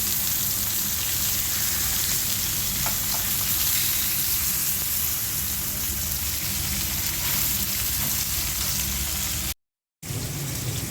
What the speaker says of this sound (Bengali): পেঁয়াজ কুচি দিয়ে দিলাম, মাছটা একটু দিচ্ছি।